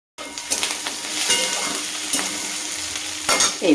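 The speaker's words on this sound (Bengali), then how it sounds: "একটু হালকা করে এটাকে ভেজে নেব যাতে কাজুর কাঁচা গন্ধটা চলে যায়।" Cashews lightly frying in a pan, a close crackling sizzle punctuated by stirring scrapes and small bursts, with a louder clatter near the end.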